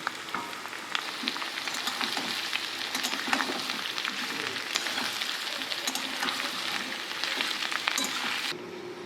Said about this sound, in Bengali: এবারে দিয়ে দিচ্ছি কেটে রাখা কাঁকরোলগুলো। এগুলোকেও হালকা করে একটু ভেজে নেব।